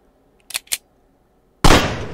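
A single loud gunshot in the horror game The Nightmare Inside, preceded by two quick mechanical clicks of the gun, then a sharp blast with a decaying echo.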